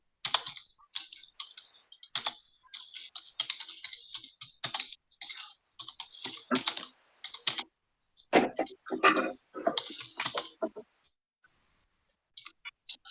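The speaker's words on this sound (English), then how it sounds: "Let me type this." Fast bursts of keystrokes on a computer keyboard, clicking in irregular runs with short pauses, close and fairly clear, with no talking.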